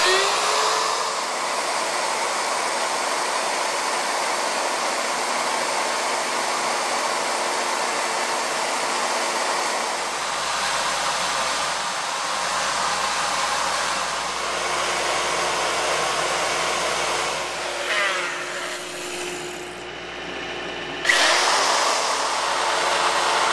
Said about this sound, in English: we'll just take our router, one of these straight cut bits, and go to work